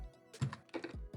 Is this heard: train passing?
no